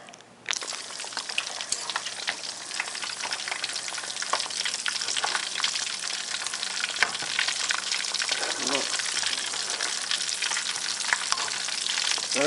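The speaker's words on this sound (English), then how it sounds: "I teraz do oleju dać kotlety" Polish kotlety cutlets dropped into hot oil, a loud close crackling sizzle that starts abruptly and keeps bubbling densely throughout, with scattered pops and small clicks.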